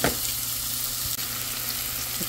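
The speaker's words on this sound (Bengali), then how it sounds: "একটু হালকা নেড়ে চেড়ে নেব" Minced meat boiled with turmeric and mixed with flattened rice is stirred in a frying pan, giving a steady close sizzle with faint scraping throughout and no talk.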